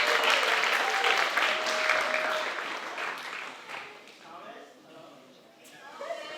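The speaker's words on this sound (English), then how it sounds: "we need to give him a big round of applause" Audience applause at a high school festival concert on stage, a dense sustained clapping from a large crowd that gradually thins and softens toward the end, with a faint steady tone in the background early on.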